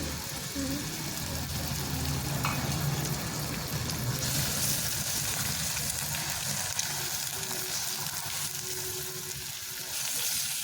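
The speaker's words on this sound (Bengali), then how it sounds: "এবার একটা ফাটিয়ে রাখা ডিম আমি দিয়ে দিচ্ছি" Beaten egg poured into a pan over lightly fried onion sizzles steadily and close for several seconds, a broad continuous hiss that swells slightly midway as a voice speaks over it.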